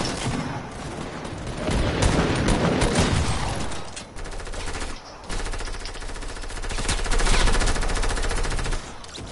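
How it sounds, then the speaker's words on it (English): Rapid automatic gunfire in the Fortnite video game, dense continuous bursts of shots lasting several seconds with brief gaps, loud and close. "god, stop shooting me."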